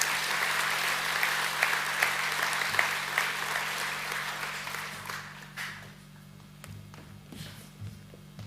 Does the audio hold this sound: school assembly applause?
yes